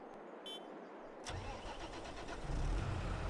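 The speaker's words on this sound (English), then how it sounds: "so I'm going to use this tractor here" A tractor engine in the Farming Simulator game cranks and catches after a brief click, then settles into a steady idle that grows a little louder, heard close and with no talk.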